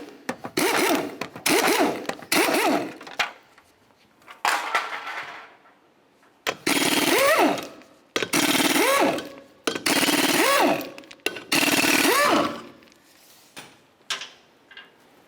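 Power tool removing 19mm lug nuts from the front wheel of a 2005-2010 Chevrolet Cobalt, with several loud, close bursts of whirring ratchety buzz, each about a second long, separated by short pauses.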